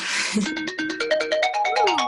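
A phone plays a short notification of quick stepped electronic tones, rising then dipping, loud and close after a brief burst of noise.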